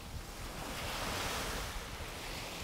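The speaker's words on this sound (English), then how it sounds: "as you listen to the ocean waves, let go of all tension you may be holding in your body." Ocean waves wash steadily against the shore in a continuous, full hiss of surf, with no voices over it.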